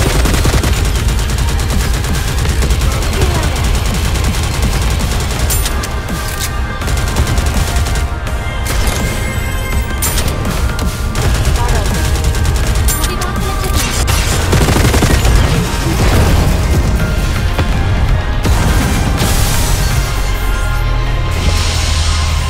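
Loud, dense gunfire and explosions in the video game Goddess of Victory: Nikke roar continuously, with rapid bursts overlapping booms and a constant heavy rumble throughout.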